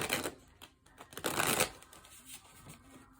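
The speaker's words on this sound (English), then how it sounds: "I'm going to go ahead and start shuffling." Tarot cards are shuffled by hand, a few close, crisp riffling bursts of card-on-card flutter with soft pauses between, quiet and without speech.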